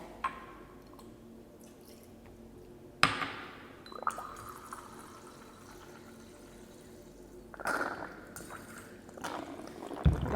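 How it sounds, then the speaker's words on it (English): Water poured into a beaker holding lithium oxide powder, a faint trickle with a few sharp clinks of glass standing out against a quiet room. "The lithium oxide powder is added into a beaker and then water is added."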